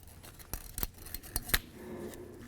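Metal secondary clamp being pried and pulled from a locking hub on a 1999-2007 Ford F250, a series of sharp metallic clicks and snaps at close range with no talking.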